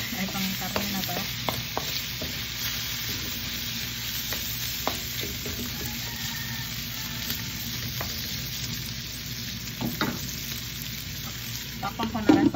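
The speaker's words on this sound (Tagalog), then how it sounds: "Nagigusa ko lang yan dito. Hanggang sa medyo mag-brown-brown siya." Meat sautés in a pan until browned, with a continuous soft sizzle broken by occasional stirring scrapes and clicks close to the pan.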